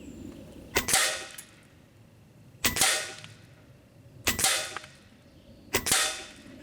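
Evanix Air Speed 480 semi-automatic PCP air rifle fired outdoors in light wind during 50-yard accuracy testing, four sharp cracking shots spaced roughly two seconds apart, each with a short ringing tail, no talk.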